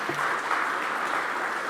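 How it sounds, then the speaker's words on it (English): Steady applause from an audience at a horse racing awards night fills the room briefly, a dense, even patter of many hands with no talk on top. "A round of applause."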